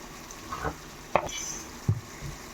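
Beef liver fries in a pan with a low, steady sizzle, broken by a few sharp clatters of a utensil scraping and stirring the pan.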